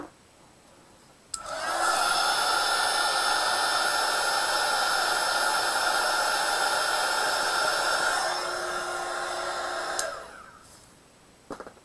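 A hair dryer blows on wet paint, switching on with a click into a loud steady whirring hiss, shifting pitch slightly near the end before clicking off.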